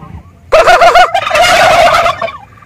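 Large turkeys: a loud, close gobble, a rapid warbling burst followed by a second longer gobble, with faint bird calls afterward.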